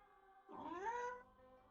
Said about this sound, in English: This annoyed meow comes out.